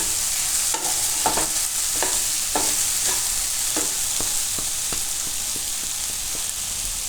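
Okra cooking in a pan over a low flame gives a steady soft sizzle, with a spatula stirring through it in irregular scraping taps that come closer together toward the end.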